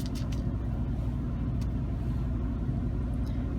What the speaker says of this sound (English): that is my washer up above me going to town